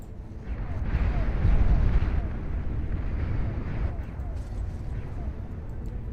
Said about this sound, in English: Yep, got the flak turrets.